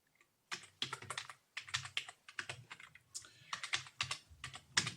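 Rapid typing on a computer keyboard, a steady flurry of close, crisp keystrokes in bursts with short pauses, no talking.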